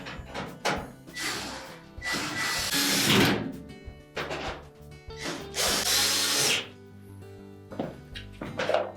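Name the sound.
power drill tightening range retaining screws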